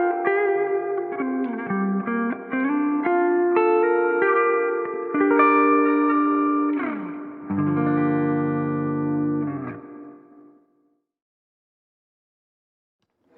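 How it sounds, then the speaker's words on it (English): An electric guitar plays through an Epiphone So Cal 50 amp with its reverb turned up deep, bright picked notes and chords washing into long vintage-style tails before the sound fades out to silence. "Now as I inch it up, it starts to get very vintage in character, like a very deep reverb."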